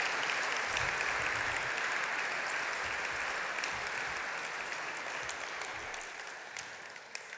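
Sustained applause from a city-talk audience in Sydney for panellists leaving the stage: dense, even clapping from many hands at a moderate distance, slowly tapering over several seconds, no speech.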